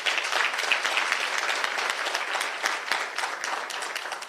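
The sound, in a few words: audience applause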